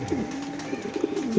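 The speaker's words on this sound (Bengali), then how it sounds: "98 নাম্বার খাঁচায় 3 পিস কবুতর মাদি তিনটাই মাদি" Caged female pigeons coo in low, rolling calls, several overlapping close by against a faint background hum.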